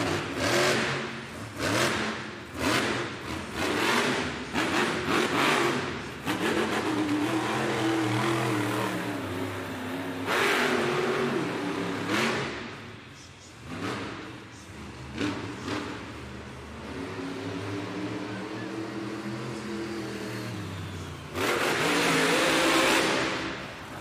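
A monster truck engine revs hard in an arena during a reverse popper into a wheelie, with repeated loud throttle bursts and winding pitch swings over a roaring crowd background.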